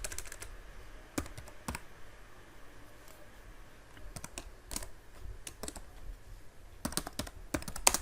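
Computer keyboard being typed on while entering a printf line of C code, with irregular bursts of quiet key clicks and pauses between keystrokes, close and fairly soft with no talking.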